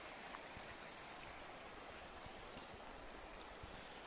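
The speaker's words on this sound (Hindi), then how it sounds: "तो ये देख सकते हो, ये नदी सी बह रही है।" A river flowing near tea gardens around Siliguri, a faint, even wash of running water heard steadily from a distance with no voices.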